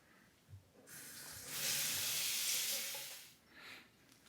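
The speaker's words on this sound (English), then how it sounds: "let me rinse off and we'll get to the second pass" Tap water gushes steadily into a sink as a shaver rinses off between passes, a broad hissing spray that swells to full strength mid-clip and then tapers away, heard alone with no voices.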